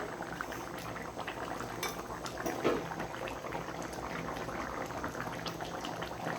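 Fish curry bubbles at a rolling boil in a pot, a soft, continuous burble of liquid heard alone at low volume.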